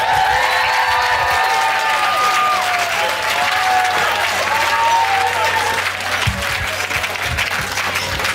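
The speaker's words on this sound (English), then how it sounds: "Let's give him a round of applause" Wedding guests give sustained applause after the best man's toast, a dense, loud wash of clapping with some cheering and crowd murmur running steadily throughout.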